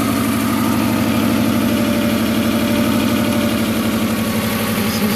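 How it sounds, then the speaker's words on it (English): A 1998 Toyota 4Runner engine idles close by with a rough, uneven misfire, its low rumble stumbling in a loping pulse throughout, with no talking. "Seems to be misfiring pretty good"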